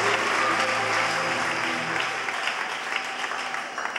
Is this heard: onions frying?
no